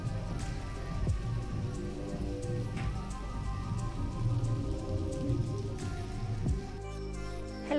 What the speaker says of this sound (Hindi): अभी तो गाइस यहाँ पे अभी भी लग रही है तेज़ की बारिश, बहुत तेज़ वाली